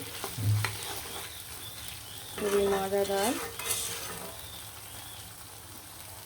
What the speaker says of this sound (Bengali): এভাবে পেঁয়াজ দিয়ে আলু দিয়ে খুব সুন্দরভাবে ভাজা ভাজা ভাজা করে নিব